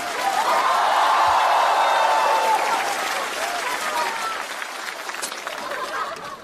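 Studio audience at a stand-up comedy show applauding in a dense, loud wash of clapping that eases slightly in the second half, with a few chuckles mixed in.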